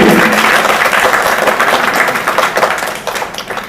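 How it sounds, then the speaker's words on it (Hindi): A loud round of clapping from a teachers' day school audience, dense and steady at first, then thinning into looser, more distinct claps toward the end. "जोरदार ताली आपके लिए भी।"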